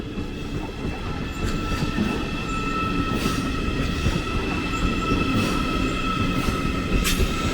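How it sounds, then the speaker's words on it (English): ICE4 high-speed train pulling out of München Hauptbahnhof, a steady loud electric hum and whine with rolling wheel noise and faint rail clicks, heard close from the platform. "now another ICE4 is pulling out"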